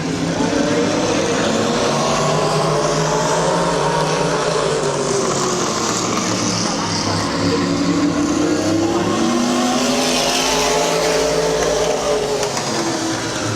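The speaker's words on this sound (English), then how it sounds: "Jim Beatty Jr. in the lead in car 80" Race cars circle Midvale Speedway in 2004, engines droning loudly and continuously as they pass, with a track announcer talking over the roar.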